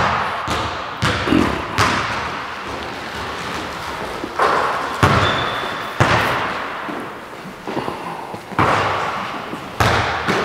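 A basketball thuds on a court during a free-throw shooting workout, repeated irregular bounces with occasional sharper slaps, while people talk at times.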